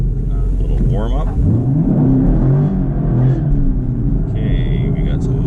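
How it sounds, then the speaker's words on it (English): A Chevrolet Camaro SS 1LE on Goodyear tires launches hard, its engine revving and rumbling loudly as the tires squeal in short bursts, with a person talking over it. "Okay, we got some squealing there."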